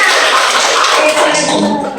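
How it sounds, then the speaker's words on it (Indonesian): A classroom of students clapping together at a teaching practice session, a dense, steady wash of hand claps close up that fades slightly toward the end, with no talking. "tepuk tangan dulu semuanya"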